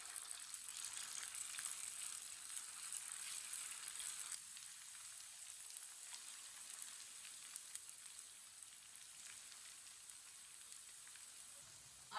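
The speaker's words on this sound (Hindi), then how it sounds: "अब इसे 2 मिनट के लिए मीडियम आंच पर फ्राई होने देते हैं" Chinese kebabs fry in hot oil over medium heat, giving a faint, continuous sizzling hiss with soft crackles throughout and no voices.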